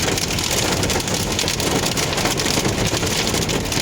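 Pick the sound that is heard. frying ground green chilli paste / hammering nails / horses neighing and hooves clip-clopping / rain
rain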